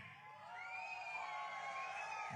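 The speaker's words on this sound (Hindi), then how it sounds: "आपने ताली तो बजा दी" A large audience at a political rally for the Modi government cheers and whoops, with a sustained roar of crowd voices filling the space at a fairly even level.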